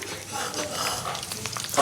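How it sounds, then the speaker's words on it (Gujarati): Bhungla snacks fry in hot oil at home for batata bhungla, a close, continuous crackling sizzle that swells and fades slightly as they are stirred. "ભૂંગળા તળાવી જાય"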